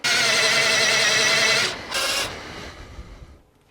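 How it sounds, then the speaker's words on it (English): A power drill whines loudly at high speed drilling holes in a metal bracket, stops briefly, then runs again for a short burst before winding down into light clattering. "So now we just need to drill the two holes here"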